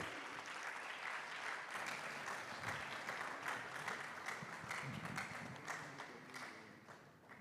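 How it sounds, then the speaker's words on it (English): Sustained applause from an audience at a sports games launch event, a dense steady patter of many hands lasting several seconds before tapering off at the end, with a little background voice underneath. "A round of applause for him."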